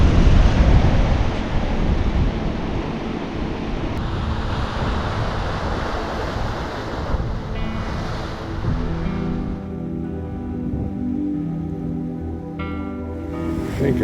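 Waves wash and break against a rocky Maine coast with a rushing hiss, wind buffeting the microphone, then a low motor hum takes over near the end.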